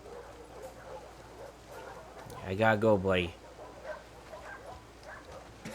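A dog in the video game The Last of Us Part II lets out a short whining, barking cry midway, with quiet talk and game ambience around it.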